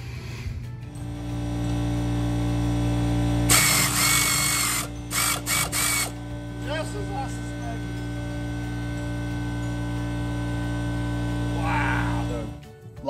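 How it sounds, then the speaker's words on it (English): A pneumatic air gun works corroded nuts on a Permagreen Triumph during an engine dampening system repair, giving a loud burst of rattling impacts in several short stuttering bursts over a constant compressor-like hum, with a person speaking briefly. "Let's try the old air gun."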